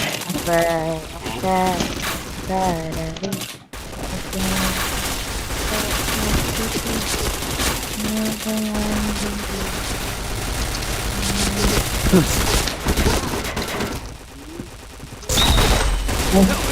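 Rapid gunfire bursts from a mobile shooting game, loud and dense throughout with in-game tones and effects layered over continuous crackling shots, with a short dip just before four seconds and another near fifteen.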